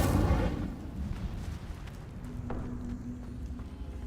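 An Incendio fire spell cast in Hogwarts Legacy, a loud burst at the start that settles into a rumbling, crackling fire effect under busy game sounds, with a faint tonal hum toward the end.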